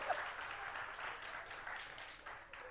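A church congregation applauds in a soft, continuous wash of clapping, distant and faint, with no distinct individual claps standing out.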